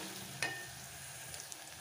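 Onions frying in a pan for a fish curry give off a faint, steady sizzle, with one brief sharp clink near the start and a few soft ticks, and no voices.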